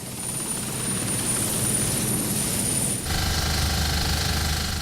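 A search-and-rescue helicopter flies overhead with a steady, fairly loud rotor chop and engine drone that shifts tone partway through as it passes, with no talk.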